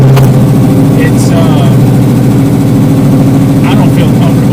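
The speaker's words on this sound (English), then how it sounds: "I'm just hearing a lot of exhaust crack from the top." A 1972 Barracuda with a swapped 6.1L Hemi engine idles loudly nearby, a deep steady exhaust drone with scattered sharp crackles popping through, while someone talks over it.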